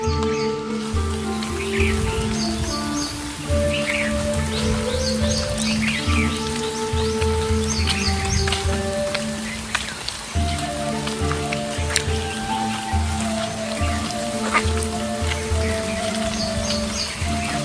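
Steady rain falls on trees, many of them coconut palms, and on the ground, a dense continuous patter with birds chirping faintly at intervals throughout.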